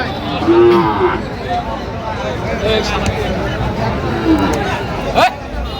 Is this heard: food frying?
no